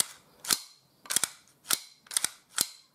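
An Umarex Colt 1911 Government air pistol fires six sharp, snappy shots at short, slightly uneven intervals, close up with quiet between them.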